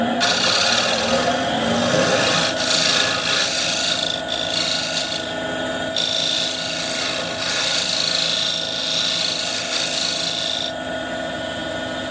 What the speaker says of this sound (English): So I'm going to go with the scraper and go get some more out.